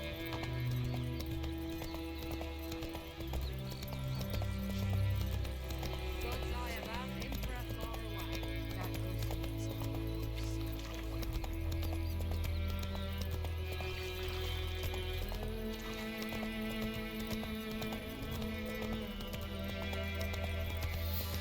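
Hooves of the horse Roach clip-clop in a galloping rhythm across The Witcher 3 game world, steady and moderately close, set under a continuous bed of music and game ambience.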